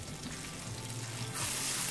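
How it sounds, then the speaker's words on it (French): Butter with a little oil sizzles in a frying pan, a steady close hiss that swells louder near the end. "dans ma poêle, je mets un petit peu de beurre avec une noisette d'huile pour que le beurre ne brûle pas"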